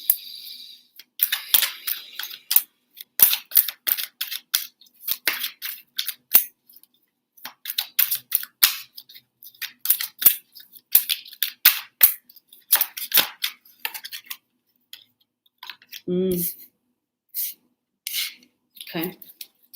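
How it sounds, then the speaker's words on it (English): A deck of tarot-style cards is shuffled close up, giving dense runs of crisp snapping and riffling flicks in irregular bursts over nearly twenty seconds, with a brief murmur of voice near the end. "let me just shuffle a few more cards"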